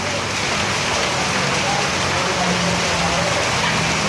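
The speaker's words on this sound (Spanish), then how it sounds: "El cable aéreo de Siloé funcionando en medio de la lluvia." Steady rain falls around the Siloé aerial cable car in Cali, Colombia, a dense continuous hiss of drops on surfaces with a low rumble underneath, even and unbroken throughout.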